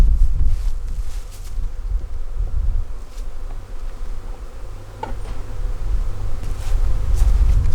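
A dense swarm of young honeybees at a hive buzzes continuously up close, a low droning hum with small rises and falls.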